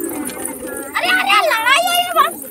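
Pigeons cooing close by, soft rolling coos rising and falling over about a second and a half, with children's voices chattering around them.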